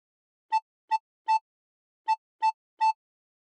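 Recorder playing the first phrase of the Squid Game theme: six clear, breathy notes in two groups of three, the third note of each group held longer, close and solo with silence between.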